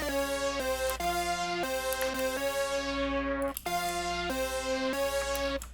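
A simple synth melody made in FL Studio for a rage-style beat plays alone, a short run of sustained bright notes that change pitch in an even rhythm.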